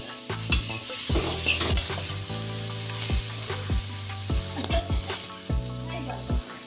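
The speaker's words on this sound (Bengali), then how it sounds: "তো সর্বপ্রথম কড়াইতে তেল দিয়ে কুঁচে মাছটাকে ভেজে নেব।" Kuche fish (eel) frying in oil in a wok, a close, steady sizzle broken by repeated metallic scrapes and knocks of a stirring spatula.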